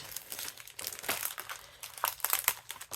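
Heat resistant acetate sheet being cut, giving close, crisp crinkling and snipping crackles in uneven bursts, with no voices.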